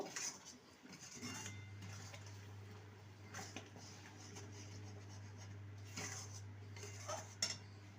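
A spoon mixes spice mix into jujube pickle in a pan, with clinking and scraping strokes over a steady low hum from a stove or burner.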